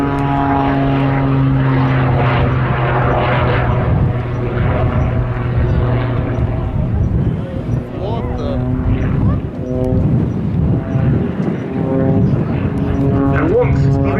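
Propeller aircraft spiralling above the airfield at the Duxford summer airshow, a loud sustained engine drone with shifting pitch, heard with crowd noise and talk.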